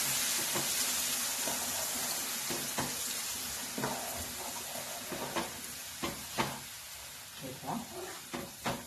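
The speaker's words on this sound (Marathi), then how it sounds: "जो आपण मसाला केलेला आहे खोबरं वगैरे ते याच्यामध्ये घालायचं" Coconut masala frying in a pan gives a low, quiet sizzle and hiss, broken by irregular scrapes and taps of a spoon stirring that grow busier toward the end.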